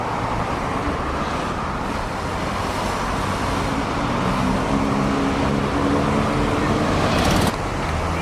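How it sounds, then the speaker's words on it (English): Busy road traffic on a St Helens–Southport bus route in 2006, a dense continuous roar of cars and buses with a passing engine droning near the end, loud and close without speech. "Literally through the traffic."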